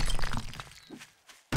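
Rock smashing in 7 Days to Die: a gritty crumbling crash fades over the first second, then a fresh sharp impact hits abruptly at the very end, close and loud.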